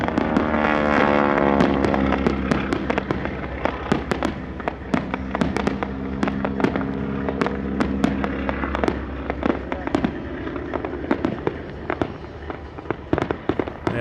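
Airshow aircraft wingtip pyrotechnics firing in a dense, continuous string of sharp crackling pops over a low aircraft roar, loud and sustained throughout, with faint tonal whine early on.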